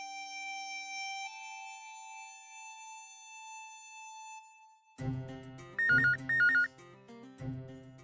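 A mobile phone ringtone plays in a domestic drama scene, starting as a sustained electronic tone and then turning into a louder, busier melodic ring with repeated chirping bursts.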